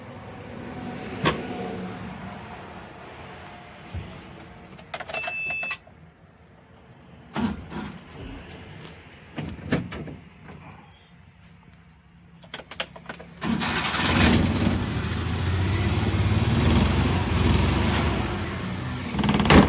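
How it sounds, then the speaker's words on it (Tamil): Maruti Omni MPFI 2001 van being started: a few clicks and short cranking bursts, then the petrol engine catches and settles into a loud, steady idle close by, with no talk. "வண்டியை ஸ்டார்ட் பண்ணி காட்டுறேன் பாருங்கண்ணா"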